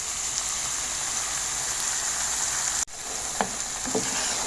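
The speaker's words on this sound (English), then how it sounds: "I'll add oil to my pan. My pepper mix. I'll add in my bolognese sauce." Bolognese sauce and a pepper mix sizzle in an oiled pan with a steady, close, hissing fry, broken near the end by a short pause and a couple of light utensil clinks.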